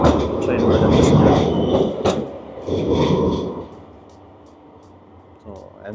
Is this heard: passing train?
yes